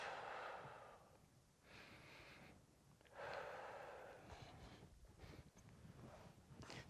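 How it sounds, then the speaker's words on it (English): Slow, deep breathing from a person in a taekwondo class, with long airy inhales and exhales in two or three waves, close and soft, no talking. "Deep breaths."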